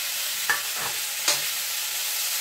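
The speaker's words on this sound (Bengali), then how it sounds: "ফোড়নে দিয়ে দিলাম জিরে।" Cumin seeds sizzling in hot oil as tempering for a Bengali potato dish, a soft steady fry with a couple of brief stirring clinks over it.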